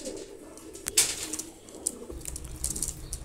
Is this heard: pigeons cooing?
yes